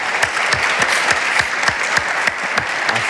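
Studio audience at an Iranian talk show clapping in a sustained, dense round of applause, loud and continuous with individual claps standing out.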